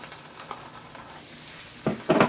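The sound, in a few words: ginger garlic paste sizzling in fried onions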